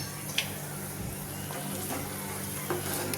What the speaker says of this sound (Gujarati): અને આવી રીતે પાવને શેકી લઈશું અને આવી રીતે ફેરવી લઈશું પાવને